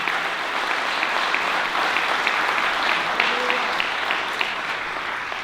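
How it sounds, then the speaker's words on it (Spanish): A church congregation applauds steadily during a sermon, a full, continuous wash of clapping from many hands with faint voices mixed in. "Alguien le da un aplauso a Jesucristo."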